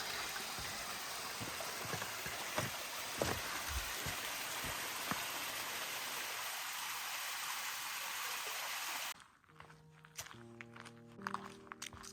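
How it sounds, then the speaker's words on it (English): A small waterfall along a mountain trail to Goat Lake: a steady rush of falling water with footsteps crunching over it. It then drops off abruptly to a much quieter scene with faint tonal sounds. "Got a tiny waterfall in here."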